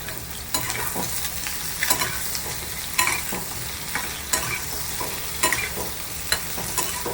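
Steady sizzling of sponge gourd lightly frying with salt in a pan, with regular scraping and stirring clicks of a utensil, close by and without talk.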